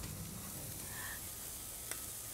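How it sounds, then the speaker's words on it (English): Bacon sizzling on an outdoor grill at Eastern Market: a soft, steady hiss and crackle of frying fat, faint and continuous, with a single brief pop near the end and no talk. "I've never seen anyone put bacon on the grill, actually"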